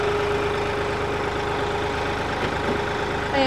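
A tractor's steady, low engine rumble idles continuously at close range, droning evenly throughout with a faint rise at the very end.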